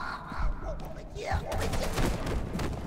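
A machine gun turret fires in the video game Content Warning, producing a rapid burst of gunfire that crackles under excited shouting and talk.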